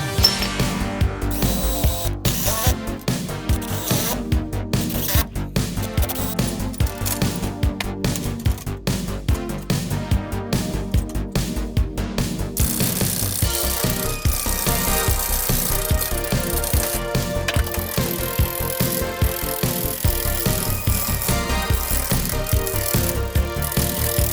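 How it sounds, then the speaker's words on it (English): A lathe cuts through a resin mould, stripping away excess resin: a loud, continuous rattling, grinding machine noise with rapid chattering in the first half, then a steadier whirring drone, close and alone without speech. "you can see how we are cutting through the mould now, and just getting rid of the excess resin"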